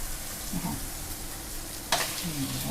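Pork stir-frying in a pan with garlic, shallots and shrimp paste, a continuous loud sizzle with a sharp clatter near the end and faint voice fragments in the background.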